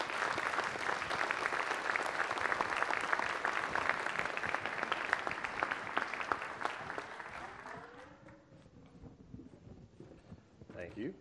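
An audience at an energy conference keynote applauds to welcome the speaker, a steady dense clapping that carries for several seconds before thinning out, with a voice beginning to talk as it fades.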